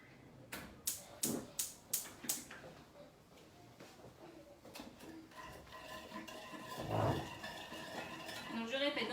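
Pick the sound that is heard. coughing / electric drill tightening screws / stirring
stirring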